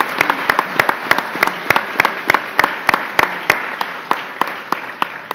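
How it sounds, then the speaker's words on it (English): Applause at a governor's healthcare announcement in Fredonia: a rhythmic run of close, sharp hand claps at an even pace, dominating a softer background of a crowd clapping along. "it deserves another round of applause"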